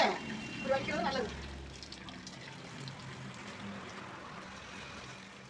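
Water poured off cooked rice in a pot over a sawdust-fuelled stove gives a brief splashing gush, then fades to a soft trickle while a person talks over it.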